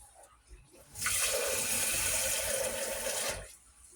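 Water pours steadily into a pot over a ham bone for about two seconds, a loud, rushing splash that starts abruptly and then stops, with quiet kitchen sounds before and after.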